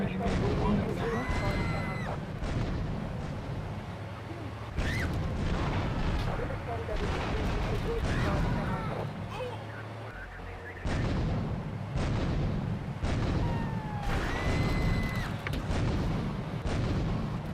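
Tank cannon firing in the video game GTA III, a series of heavy booming blasts roughly every couple of seconds with rumbling tails, with someone talking between and over them.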